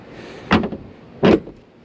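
A Tesla car lid is pushed shut with two distinct closing thuds about three-quarters of a second apart, close by, against a quiet background with no talking.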